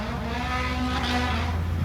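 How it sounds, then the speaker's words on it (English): A jet ski engine on a lake in a Florida park, a steady droning unmuffled motor buzz that holds an even loud level throughout. "I guess that's a jet ski we heard."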